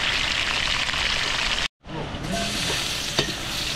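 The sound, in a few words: frying food in a pan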